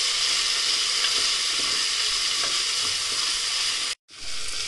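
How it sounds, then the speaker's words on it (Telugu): Vegetables for veg palav lightly frying in a pan while being stirred, a steady close sizzle with faint scraping throughout and a brief cut-out near the end. "ఒకసారి బాగా మిక్స్ చేసుకుందాం. ఇవి కాస్త లైట్గా ఫ్రై అవ్వాలి."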